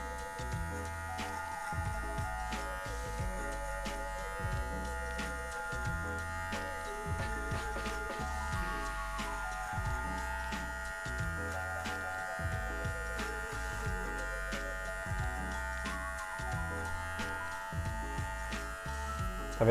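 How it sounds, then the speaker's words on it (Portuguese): Electric hair clipper trimming hair during a fade haircut, used with a comb, giving a steady close buzzing hum throughout with a regular pulsing rhythm as the clipper passes through the hair. "Vamos fazer o combo pente mais máquina."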